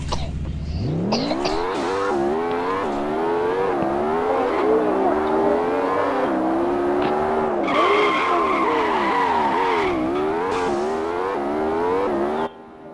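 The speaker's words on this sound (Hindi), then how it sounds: "लैम्बोर्गिनी सियान ने निकालना है अभी।" A Lamborghini Sián supercar pulls away with squealing tires, a loud sustained screech over a rising, wavering engine roar that holds for several seconds before cutting off abruptly.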